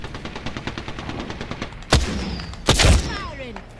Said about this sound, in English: Firing! See, I'm taking fire.